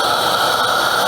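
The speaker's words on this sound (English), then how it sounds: "Let's go over how to get some hot water out of the machine." La San Marco 100E espresso machine pushing hot water out of its wand into a cup, a loud steady rushing hiss with no voices.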